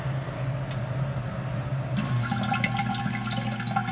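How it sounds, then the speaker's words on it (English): Water pours into the supply tank of a Durastill 30J automatic water distiller, a steady splashing stream starting about halfway through over a low continuous hum, close and moderately loud. "water starts pouring"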